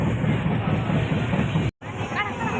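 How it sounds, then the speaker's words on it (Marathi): A Mumbai-bound train rumbles steadily, heard from inside, a dense low roar that cuts out for a moment and returns. "बाहेर वाटतं पूर्ण रेल्वे चालली आहे आवाज मस्त वाटते"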